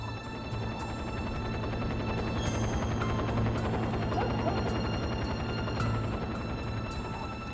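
Helicopter in the game James Bond Nightfire, a steady droning hum with rhythmic rotor chopping that holds at an even level, with no fly-by rise or fall and no talk.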